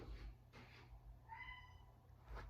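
A pet cat meows faintly at a door, a few short cries at a distance, quiet and sparse against a low background hum.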